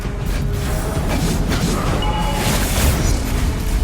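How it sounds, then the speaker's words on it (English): Turret destroyed in the Mobile Legends video game, a dense, loud booming explosion with crackling layered over busy battle effects, sustained for a few seconds without speech. "Your team destroyed a turret."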